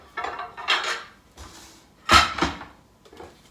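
Metal baking trays and a springform pan clatter and clank as they are handled, in several separate bursts of scraping and knocking close by with short pauses between.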